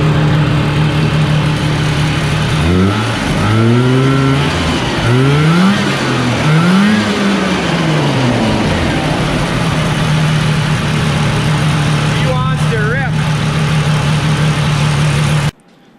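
A Ski-Doo Elan 250 twin snowmobile engine idles steadily, then revs up several times in quick bursts before settling back to a loud, continuous idle, with a brief sputter near the end.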